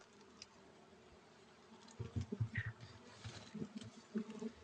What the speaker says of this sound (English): you can see bees with pollen